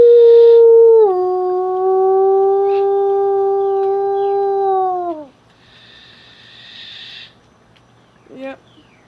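Person vocally imitating a wolf howl, one long sustained tonal howl with a slight drop at the start and a falling end, loud and close, followed by faint breathy noises and a short vocal blip.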